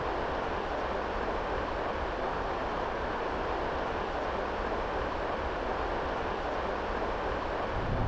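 A river plummets over cascades into a final waterfall drop in the Arctic barrens, a loud, dense, unbroken roar of rushing water with no voices.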